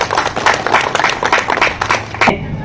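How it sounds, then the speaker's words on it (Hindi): Audience clapping at an indoor gathering after a call for loud applause, a dense patter of many hands close by that fades out abruptly near the end. "एक बार जोरदार तालियां होनी चाहिए भाई।"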